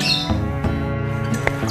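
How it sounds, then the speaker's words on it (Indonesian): Birds sing and squawk outdoors, with a steady layered chorus of calls and a few sharper chirps standing out against a continuous, fairly loud background. "sekalian dengerin nih burung-burung bernyanyi"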